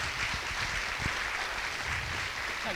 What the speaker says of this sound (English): Big round of applause, please, for Martyn Ware from illustrious Heaven 17